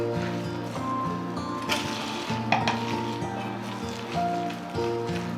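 Fermented dal and rice batter with salt and turmeric being stirred in a bowl, giving soft, continuous close scraping and sloshing under a steady background hum, with a few brighter knocks of the spoon against the vessel.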